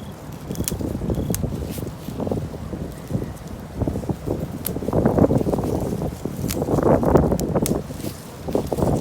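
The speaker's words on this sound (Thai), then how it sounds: "ลมแรงมากไม่รู้ว่าได้ยินเสียงพูดหรือเปล่า" Strong outdoor wind buffets the microphone in irregular rumbling gusts that rise and fall across the whole stretch, with faint rustling and clicks mixed in and no clear voices.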